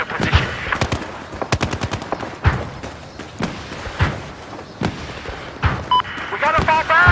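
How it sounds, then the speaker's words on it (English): Machine gun fire from an enemy position in a first-person combat video game, bursts of rapid shots repeating across the scene, close and loud, with radio-style voices talking over the gunfire. "Have eyes on enemy machine gun."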